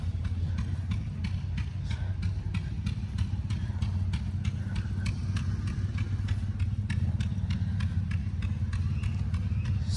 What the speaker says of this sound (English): These are some good sounding tractors right here.